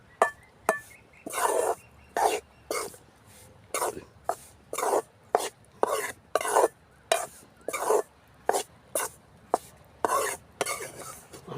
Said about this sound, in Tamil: மாவு போட்டு வச்சுருக்கேன் நல்லா வறுவடட்டும்